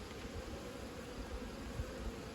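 Honey bees humming around a hive, a dense continuous low drone with a faint steady hiss and no break.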